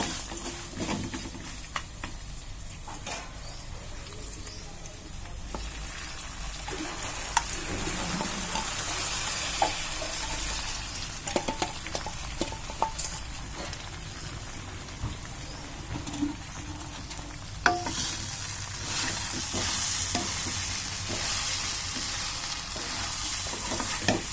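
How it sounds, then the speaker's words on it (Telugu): Washed flattened rice is stirred and scraped in a hot pan, a continuous soft sizzle with scattered clicks and taps of a spoon against metal. "ఇప్పుడు మనం కడిగి పెట్టుకున్న అటుకులను కూడా ఇందులో వేసి కలుపుకున్నాం"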